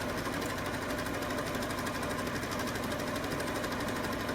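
A sewing machine runs a back stitch on a tote bag seam, giving a rapid, even mechanical chatter that holds steady and close throughout with no voices.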